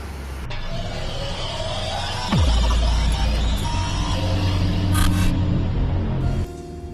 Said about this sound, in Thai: กดตัวล็อกค้างเอาไว้ 3-5 วินาทีนะครับรถก็จะสตาร์ทออโต้อัตโนมัติให้นะครับ